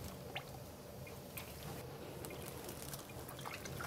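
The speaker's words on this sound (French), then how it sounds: "Je rince." Water rinsing a non-autoclavable endoscope during manual cleaning, a faint steady trickle with small drips and squishes, quiet and continuous with no speech.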